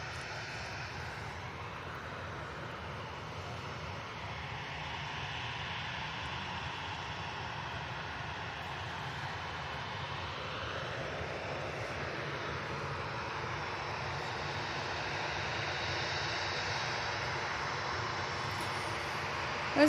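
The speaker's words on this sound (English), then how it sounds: "There's a plane arriving." Airliner arriving at Manchester Airport, a continuous loud jet engine roar with a sweeping rise and fall in pitch as it passes, steady and dominant for the whole stretch.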